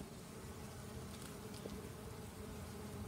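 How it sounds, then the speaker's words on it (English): Bees buzzing around their nest set among holes in the ground, a soft, continuous hum close by and fairly faint, with no voices. "I'm recording right now a bunch of bees that I just found."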